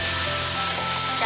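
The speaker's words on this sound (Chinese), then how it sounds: "下入豆瓣酱，炒出香味儿。" Doubanjiang bean paste stir-frying with scallions and garlic in a wok, a loud, dense, steady sizzle filling the short moment without a break.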